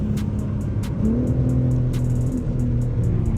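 A BMW M5 in two-wheel drive revs hard and accelerates with a deep, droning engine note. The pitch rises steadily under load, with a few sharp clicks and ticks on top, and the car sounds loud and close.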